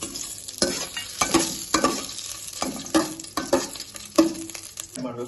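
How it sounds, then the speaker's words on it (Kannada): Whole spices (cinnamon, cloves, black pepper, cardamom, star anise) stirred in hot oil in a pan for chicken curry, a continuous sizzle broken by repeated scraping strokes of a spoon at a steady rhythm, close and fairly loud. "ಏಲಕ್ಕಿ ಹಾಕಿ ಇದನ್ನು ಕಲಿಸ್ಬೇಕು, ಮಿಕ್ಸ್ ಮಾಡಬೇಕು"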